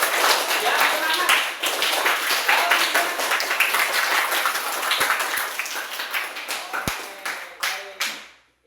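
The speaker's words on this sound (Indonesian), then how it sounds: "kita berikan aplaus untuk kita semua untuk hari ini" A classroom full of students breaks into sustained applause, dense overlapping clapping that fills the room for several seconds before tapering off and stopping abruptly at the end.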